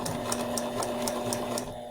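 Sewing machine stitching fabric with pivots at the needle, a fast even rhythm of bright mechanical needle strikes, loud and close, that stops near the end.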